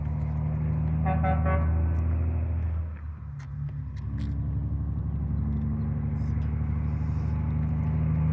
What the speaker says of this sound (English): Kid must have wanted the truck driver to honk.